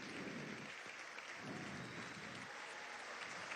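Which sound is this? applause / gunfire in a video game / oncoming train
applause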